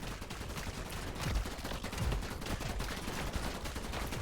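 Two minigun turrets in the defence strategy game IDUN Frontline Survival spraying rapid, continuous automatic fire, a dense steady rattle with a couple of heavier thumps mixed in.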